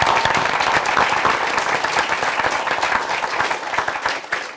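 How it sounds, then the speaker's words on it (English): An audience at a spiritual talk on inner power breaks into loud, full applause, many hands clapping in a dense, energetic burst that stays strong before tapering slightly at the close. "Let's have a round of applause for those wonderful"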